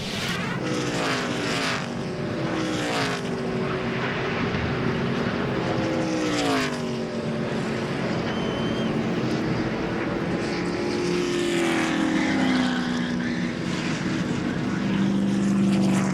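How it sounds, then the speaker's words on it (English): Engine roar of NASCAR race cars at speed near turn 1 on an oval track, close to 200 mph, before a head-on wall crash; steady loud broadband noise with rising and falling engine pitch sweeps throughout, no distinct impact audible. "that was the fastest part of the racetrack going into turn 1, close to 200 miles per hour, head on into the wall"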